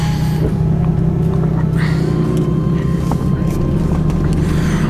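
A Nissan 370Z pulls away in drive, giving a steady low engine drone heard from inside the car at night. The tone is even and moderately loud throughout, with no talk.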